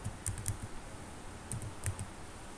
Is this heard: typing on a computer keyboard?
yes